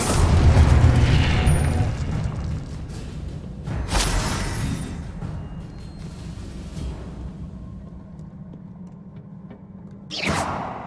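A booming Confringo spell explosion in Hogwarts Legacy hits loud and close at the start, followed by another burst a few seconds later and a sharp crack near the end, with fading rumble between.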